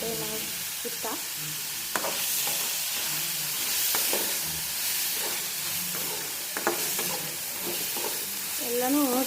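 Garlic and ridge gourd chutney ingredients sizzle steadily in a pan with occasional stirring scrapes, a continuous close frying hiss throughout.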